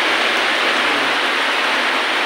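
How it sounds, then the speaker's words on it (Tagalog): Heavy rain pours over rice paddies in Agusan del Sur, a dense, loud, unbroken hiss that fills everything and has no voices over it. "Ulan na dito sa amin."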